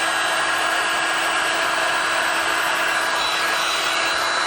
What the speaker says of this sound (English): I'm going to use my heat gun to blow it around.